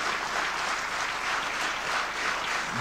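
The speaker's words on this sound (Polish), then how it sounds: "bardzo, bardzo dziękuję za te oklaski dla pana premiera Jana Olszewskiego" A hall full of people at a gala applauds Polish Prime Minister Jan Olszewski, giving a steady, dense wash of clapping that holds at an even loudness from start to finish.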